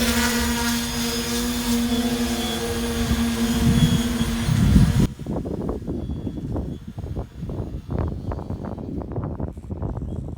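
A survey drone flies an automatic mission, its steady motor whine loud and close for five seconds before cutting away to a lower, choppier rumble with rustling.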